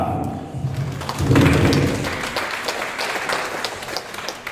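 Brief clapping from a small audience at a cybersecurity meetup, with scattered sharp claps, a low thud and murmuring voices in the room.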